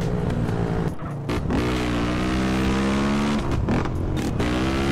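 A motorcycle in GTA San Andreas, ridden without a plate and with a stripped rear end, revs loudly and steadily, its engine pitch rising and falling through several gear shifts.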